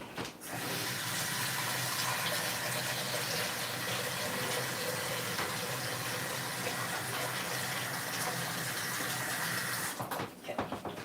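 Tap water gushes steadily into a cooking pot for lentils, a loud continuous hiss and splash for about ten seconds before cutting off abruptly.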